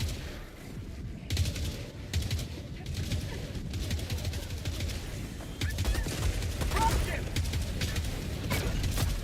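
Dense, rapid machine gun fire and explosions fill the whole stretch of combat in the video game Helldivers 2, continuous and loud with rising intensity.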